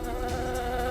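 Honey bees buzz in a steady, dense drone, close and loud without pause, with no voices over it.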